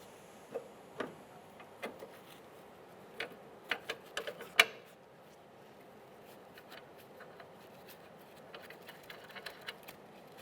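A ratchet clicks as it tightens a sway bar link on a 2011-2016 Hyundai Elantra, a faint series of irregular mechanical ticks in short bursts, close by and otherwise quiet.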